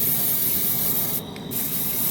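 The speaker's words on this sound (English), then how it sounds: "So this is just a glossifier coat. We're gonna do three good solid coats of this" An aerosol of Plasti Dip glossifier coat is sprayed onto the rims of a Chevy Silverado, a loud, close, steady hiss that breaks off for a moment near the middle and then resumes.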